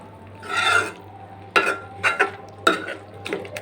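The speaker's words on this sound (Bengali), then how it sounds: "এখন আমি একটু ভালো করে ঘেঁটে নেব এটাকে" A spoon scrapes and stirs taro leaf greens (kochu shak) cooking without oil in a pot, in a few separate scraping bursts over a faint steady hum.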